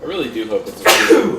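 A single sharp sneeze bursts out close and loud just after a person speaks.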